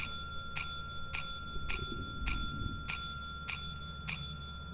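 Door bell in the video game Lethal Company, rung repeatedly with eight evenly spaced bright metallic dings over a low rumble, with no talking.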